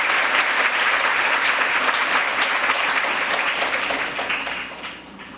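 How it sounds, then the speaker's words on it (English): Audience at an international youth peace conference applauds in a dense, steady burst of clapping that fades toward the end, with no talking over it. "Please give them another round of applause."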